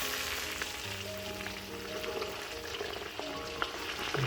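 Whole chicken frying in butter in a home kitchen, a steady soft sizzle with faint crackles, with no talk.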